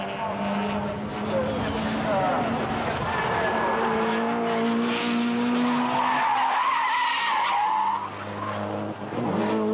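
A 1998 Belgian Procar race car with faulty brakes misses its braking at a chicane; tires squeal and skid, with long wavering screeches over a roaring engine, loud and close.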